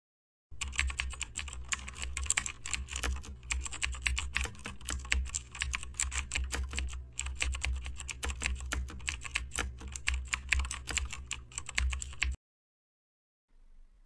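Rapid, continuous typing on a computer keyboard while a program is written, close and steady clatter of keystrokes for about twelve seconds, then it stops abruptly; no talking.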